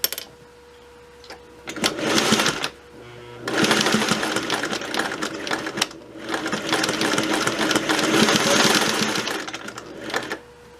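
Singer 401A sewing machine stitching with double needles, running in bursts of about two, three and four seconds separated by short pauses, loud and close with no talking.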